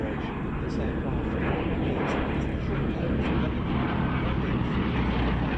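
A Bristol Blenheim, a long-range fighter configuration, flies at the Battle of Britain airshow at RAF Duxford, its piston engines giving a loud, continuous broad roar while a commentator talks over it.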